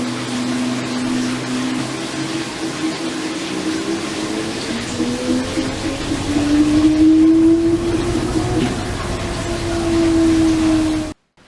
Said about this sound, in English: the washer has finished